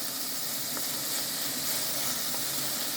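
Garlic sizzles steadily in a hot pan as the base for a corn soup, a dense, even crackling hiss that holds at a constant close level for about three seconds with no voices.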